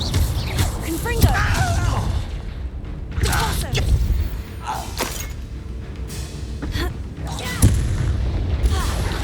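Spell combat in the video game Hogwarts Legacy, where the Confringo spell sets off repeated booming blasts and crackling impacts amid shouting voices and battle noise.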